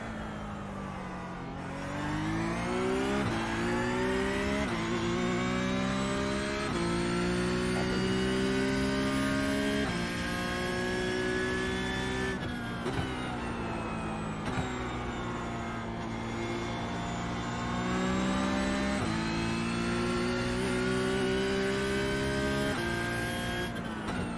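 Car engine in a racing video game, revving loudly and continuously, its pitch climbing through gears and dropping sharply at several shifts and braking points, with no speech.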